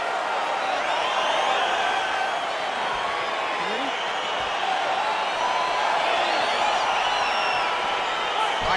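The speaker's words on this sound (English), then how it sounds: "crowd getting excited as this fight gets underway" A UFC arena crowd at UFC 319, Khamzat Chimaev versus Alex Pereira, roars steadily as the fight begins. Scattered shouts and whoops rise out of a dense wash of cheering that stays loud throughout.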